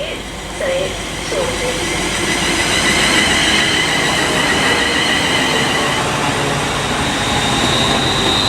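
London Northwestern Railway class 350 electric train arriving at Birmingham International on the West Coast Main Line, with a loud steady rolling rumble, wheel squeal and clatter at close range, and a voice talking over it.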